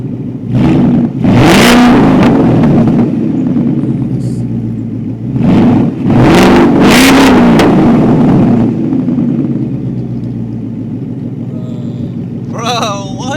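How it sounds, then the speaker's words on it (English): A 2019 Ford Mustang GT with a PYPES H-pipe cat-back exhaust revs loudly nearby in three strong bursts, a deep rumbling roar rising and falling between idle lulls, with a brief shout near the end. "What do you think of that exhaust? It sounds really good."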